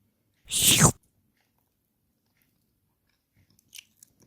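A strawberry-filled jelly candy gets one loud, close bite or crunch, followed by a few faint, soft chewing sounds after a long quiet pause.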